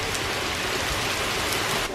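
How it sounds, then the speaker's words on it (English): Heavy rain pours steadily during a mild tropical storm in the Hudson River Valley, a dense, continuous hiss of drops hammering surfaces up close with no letup. "That is a lot of rain."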